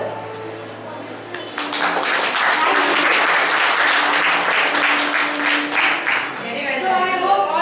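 Applause from an audience after a school play, starting quietly then swelling into loud sustained clapping, with a little cheering and a voice near the end.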